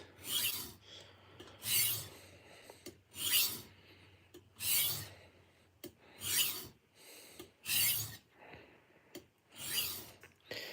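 A kitchen knife is sharpened on diamond stones, with about eight rhythmic rasping strokes, each a close, scratchy sweep separated by short quiet gaps, and no talk.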